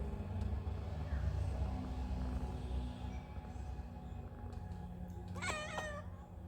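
A cat lets out a single clear, drawn-out meow near the end, close and distinct over a low, steady background rumble.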